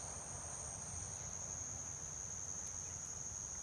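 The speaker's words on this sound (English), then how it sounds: "if you ever see a cicada, get ready for it to make a loud," A steady, high-pitched cicada drone buzzes continuously, unbroken throughout, fairly faint against low background noise.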